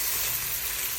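Ground beef frying in a pan gives a brief, steady, bright sizzle with a dense hiss and no pauses, close and fairly loud.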